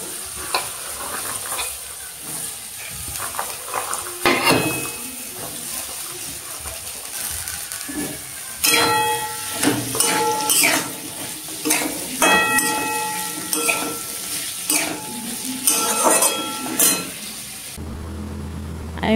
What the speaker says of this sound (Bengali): এইগুলো ভালো করে এবারে ভেজে নেবো আমি